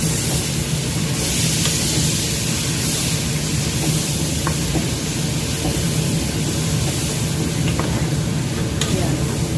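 American rice being stirred in a pan, a steady scraping and sizzling under a constant broadband hiss, with faint occasional clicks of the utensil throughout.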